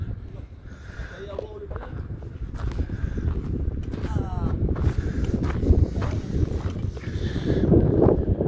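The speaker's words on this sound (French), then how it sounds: "Il y avait énormément de vent sur la plaine, ce qui fait que vous ne m'entendez pas." Strong wind on an open plain near the Egyptian pyramids buffets the microphone in constant low rumbling gusts that grow louder toward the end. Muffled voices sit underneath.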